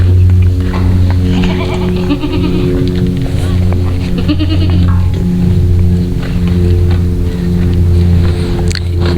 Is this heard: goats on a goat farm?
yes